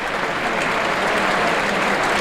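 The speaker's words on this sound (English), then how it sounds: "Minute's applause for a fan sadly lost his life in the last few days." Football stadium crowd at Burnley v Liverpool in 2016/17 gives a minute's applause for a fan, a dense, loud, continuous wash of clapping from a large crowd.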